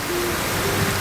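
Hail falls during a storm in central Alberta, a dense, steady patter of stones striking surfaces, loud and unbroken for the whole moment.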